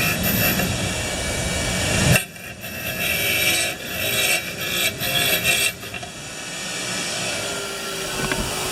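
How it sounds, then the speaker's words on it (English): Wire brush scrubbing a spark plug from a Honda 190cc pressure washer engine: a steady, close, rasping scrub that breaks off at about two seconds, then resumes in shorter, uneven strokes. "I'm just going to clean this plug up"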